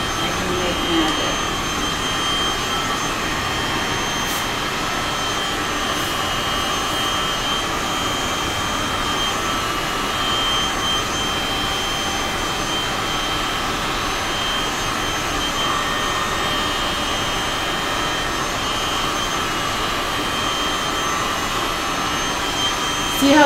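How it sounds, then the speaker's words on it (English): A hot air heat tool blows steadily over alcohol ink on an extra large piece, a continuous broadband whoosh like a small fan or hair dryer, close and constant for the whole stretch with no talk. "I'm going to drop heat on it and blow air and see if I can make magic."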